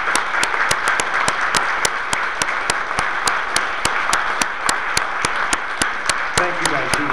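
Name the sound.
convention audience applause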